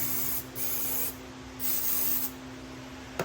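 Silicone lubricant sprayed onto a hose on a 2000s BMW E46 325i, heard as three close hissing bursts with short pauses between them, followed by a small click.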